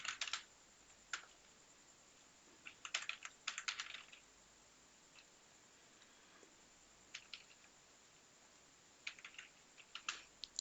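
Typing on a computer keyboard while filling in an online certificate form, with scattered bursts of close, clicking keystrokes separated by quiet pauses.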